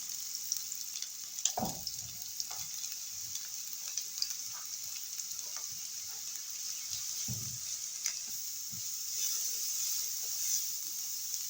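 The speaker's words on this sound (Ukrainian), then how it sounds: "Смажиться" Quiet, steady sizzling of onion and carrot frying in a pan, with a few soft clinks and scrapes of stirring scattered throughout.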